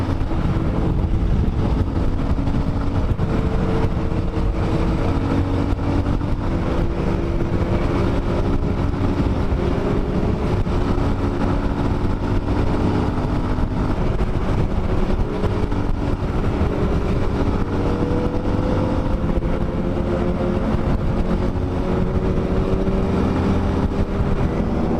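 A large group of motorcycles, including a Dafra Next 250, riding together on the road to Boituva: a loud, steady engine drone with rising pitch and heavy wind rush, continuous and unbroken.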